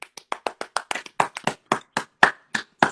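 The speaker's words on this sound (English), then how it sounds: "I'm clapping up for myself because I'm great." One person claps their hands alone, about seventeen sharp, separate claps in a steady but slightly uneven rhythm, close and fairly loud, with no talking.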